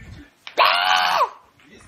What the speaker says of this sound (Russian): И Рапунцель на фоне орёт.